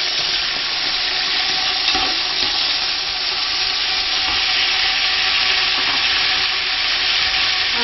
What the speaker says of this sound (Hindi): बाकी प्याज में आप चिकन स्लाइसेस डाल लें और उनको फ्राई करें।